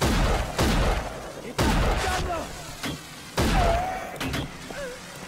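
Gunfire erupts in the video game Rage, with several loud, sharp shots and bursts spaced a second or so apart, trailing into softer in-game effects.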